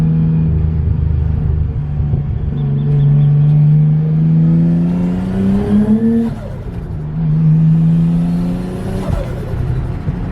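A Nissan R33 Skyline engine revs hard under turbo boost, loud and close, rising and falling through two long pulls with a droning exhaust note.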